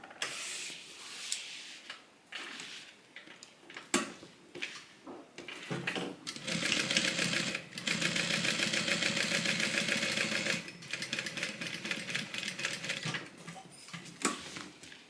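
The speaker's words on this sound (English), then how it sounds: "Now I'm just going to sew it down." A sewing machine stitches faux leather vinyl, running in a sustained, fairly close mechanical whir for several seconds between shorter bursts and handling noises.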